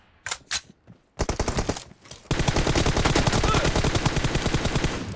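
Rapid automatic gunfire in a team deathmatch video game, a few separate shots at first, then sustained loud bursts of fire filling the rest.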